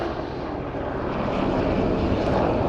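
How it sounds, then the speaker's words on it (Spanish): Aircraft rotor and engine noise passes overhead as a steady, loud drone that builds slightly over a few seconds, with no talking. "lo están visitando los helicópteros."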